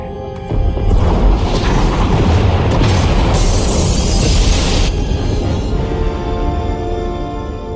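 A loud, sustained explosion rips through pod bays in Star Wars: The Old Republic, a heavy booming roar with crackling debris that swells for several seconds before fading into a lower rumble.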